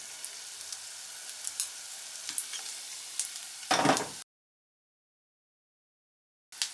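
Hot chilli oil for Asian shrimp chilli oil bubbling and sizzling steadily in a pan, with a louder burst as more oil is poured in, then silence before a short final crackle.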